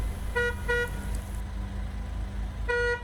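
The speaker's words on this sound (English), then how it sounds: "A honk from your forklift will let pedestrians and other vehicles know that you're entering into an area that you cannot fully see." A warehouse forklift horn giving two quick toots and then a third after a pause, sharp and buzzy over a low engine hum, fairly close with no talk.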